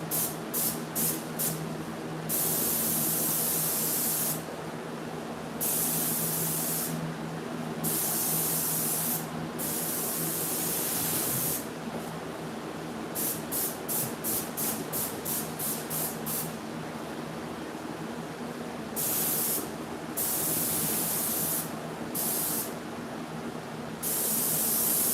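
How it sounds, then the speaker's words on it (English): Spray paint hisses onto a wooden cabinet board in repeated bursts, some long and some short, separated by brief pauses, close and loud throughout. "I think I'm just going to spray it like this."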